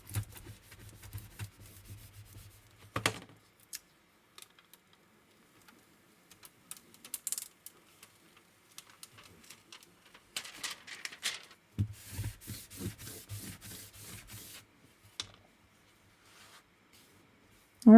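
Rubbing down a resin craft piece by hand: soft, scratchy sanding strokes come in short uneven bursts with pauses between, fairly quiet and close, without talk.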